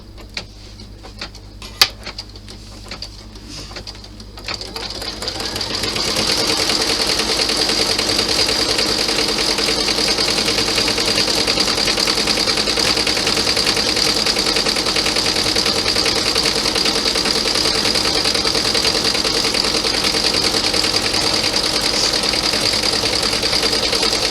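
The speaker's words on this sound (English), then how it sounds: "I am going to add the satin stitched inside seam" A sewing machine satin-stitches the inside seam of a classy clutch bag, starting after a few seconds of quiet handling and then running as a steady, continuous mechanical whir close by.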